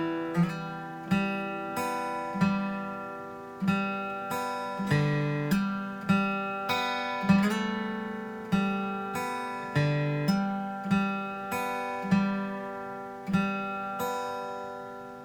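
Fingerstyle acoustic guitar plays a steady passage of plucked notes and ringing chords, each attack decaying before the next in an even rhythm, up close with no talking.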